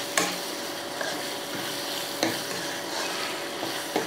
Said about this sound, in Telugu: అల్లం వెల్లుల్లిపాయ పేస్ట్ కూడా ఏగే వరకు వేయించుకోవాలి